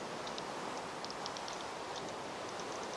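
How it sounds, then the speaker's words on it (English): Rain falling in the Minecraft video game, a steady, even wash of hissing patter with faint scattered high ticks throughout, no voices. "And be frustrated with the rain."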